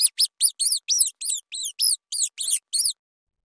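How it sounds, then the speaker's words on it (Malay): A mouse squeaks about a dozen times in quick succession, high, thin and chirping, each squeak clear and close over about three seconds, then silence. "Kita dengar dulu bunyi tikus."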